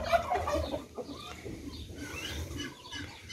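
Young naked neck chickens cluck and chirp softly nearby in a short run of small, quick calls over low farmyard background noise, with no talking.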